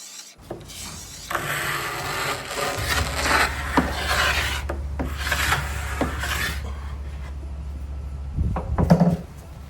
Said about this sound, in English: For those people in the furniture restoration world, this scraping is a sound of beauty.